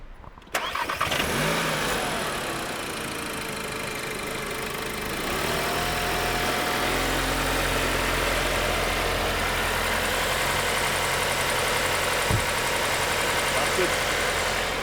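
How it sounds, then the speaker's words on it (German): A 2021 Cupra Formentor's engine cranks and catches, then settles into a steady, loud idle that shifts to a higher, even hum and holds, with faint voices underneath. "Mach einen Motor mal an, bitte."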